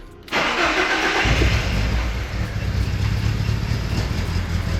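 A BMW E36 with a hard-starting fault cranks and catches, a sudden loud engine burst settling into a steady, rough running drone close to the microphone.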